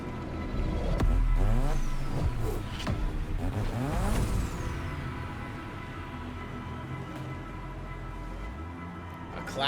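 A Mazda RX-7 in The Crew Motorfest revs and accelerates, with loud engine sweeps rising and falling over a busy mix of game sounds and tire noise, steady and close throughout.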